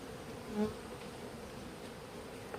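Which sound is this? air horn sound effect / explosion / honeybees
honeybees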